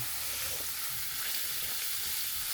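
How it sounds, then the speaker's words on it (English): Mango curry chicken ingredients sizzle and fry steadily in hot oil while being stirred in a pan, a constant close hiss with no talking. "I'm just gonna stir this up"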